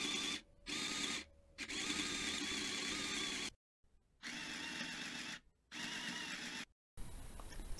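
A mini sewing machine stitches fabric for a scrunchie, its motor whirring in steady bursts broken by short pauses, close and fairly quiet.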